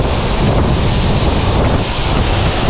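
Strong mountain wind in the Dolomites roars steadily across the microphone, a loud continuous rush with no voices.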